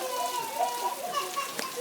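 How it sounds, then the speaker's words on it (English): Rain patters steadily outdoors with a continuous hiss, while children's playful voices and chatter rise over it throughout. "Is it raining? It's raining."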